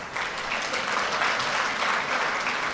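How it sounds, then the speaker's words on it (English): Audience at a women's forum in Katsina applauding as a guest walks up to the stage, a short burst of steady, close crowd clapping filling under three seconds. "Please can I have a round of applause for how she walks up the stage."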